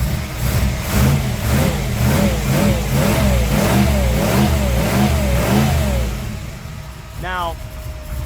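A Knight Rider replica car with a 383 stroker engine revs repeatedly in rhythmic surges over a loping idle, loud and close, with someone talking over it.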